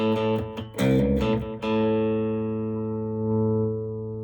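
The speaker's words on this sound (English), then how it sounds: "Again, here's single coil." A baritone electric guitar on its single-coil pickup, with a low, bright tone, plays a few quick notes, then a chord rings out and slowly decays, slightly distorted and close.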